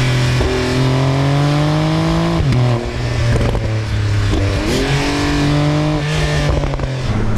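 A Porsche 911 Turbo Cabriolet engine revs loudly and continuously, its pitch rising and falling through several sweeps with crackling pops on the overrun, close and without talk.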